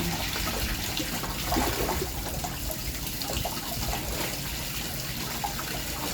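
Laundry being rinsed by hand in water before going into the washing machine: continuous soft splashing and sloshing with a steady running-water wash underneath, fairly quiet and close, with no talking.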